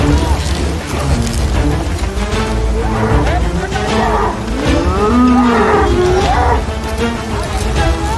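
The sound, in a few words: cattle mooing, bullocks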